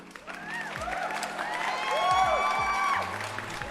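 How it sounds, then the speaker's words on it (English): Brief crowd applause with whoops and rising whistles plays during a live online reaction stream, moderately loud and short, swelling toward the middle before tapering off. "Round of applause for the people in the chat."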